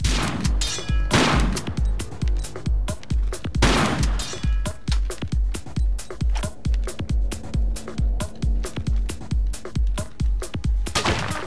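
Shotgun blasts in Tomb Raider 4, a few loud booming shots standing out over a fast, regular run of thudding impacts.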